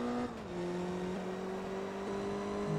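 An HKS Evolution race car in Forza Motorsport 2 launches off the line at Mugello, its engine revving hard with tonal pitch steps at gear changes, sustained and loud with no talking.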